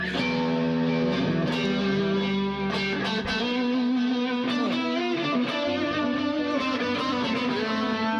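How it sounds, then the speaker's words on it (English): Distorted electric guitar chords ring out through an Ernie Ball Ambient Delay pedal with lush plate reverb, echoes trailing and layering continuously, loud and close with no voices. "that's plate reverb"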